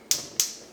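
Two quick sharp clicks, close and distinct, as a stove under a small pan of water for rava cake syrup is switched on.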